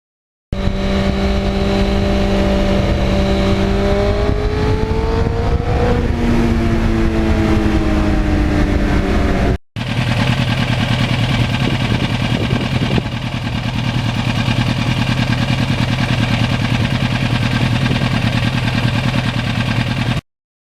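A 1991 Yamaha FZR 1000 motorcycle engine drones loud and close, its pitch rising and falling through revs for the first half, then a steady, heavy roar of riding after a brief cut.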